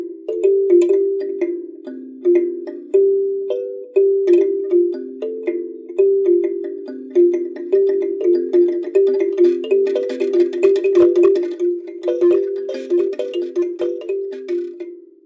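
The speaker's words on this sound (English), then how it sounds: "Anything sounds good on a kalimba." Homemade kalimba thumb piano played as a continuous run of plucked metal tines, bright bell-like notes ringing and overlapping in an uneven melodic rhythm, close and clear with no voices.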